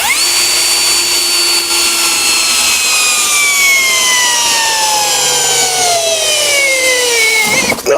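A KAMOLEE cordless drill drives an ice auger into a log, giving a loud, steady high-pitched whine with sweeping tones that slowly fall as the bit bogs down, then stop abruptly near the end.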